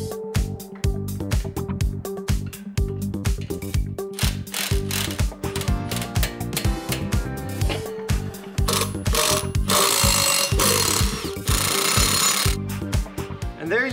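A ratchet wrench clicks in fast repeated bursts while the rear wheel comes off a CT200U mini bike with a Predator 212 engine, close and loud, with a harsher whirring stretch near the end.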